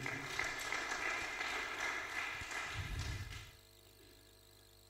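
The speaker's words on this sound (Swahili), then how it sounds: "Tumpigie Yesu makofi mazuri." A church congregation claps for Jesus during a Swahili sermon, a broad wash of applause that holds steady for several seconds, then drops away to near quiet.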